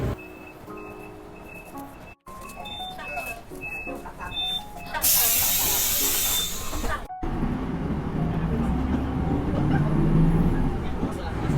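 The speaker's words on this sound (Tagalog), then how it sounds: "maya-maya nga ay dumating na rin naman yung bus na sasakyan ko" A city bus pulls up at a stop, its engine rumbling closer before a loud hiss of air brakes releases, followed by idling engine noise; faint beeping tones sound earlier amid street ambience.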